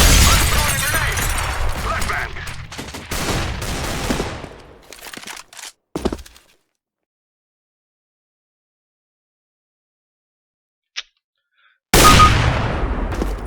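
Loud bursts of video game gunfire crackle over the first few seconds, followed by a single sharp shot, a long silence, a faint click, then more firing.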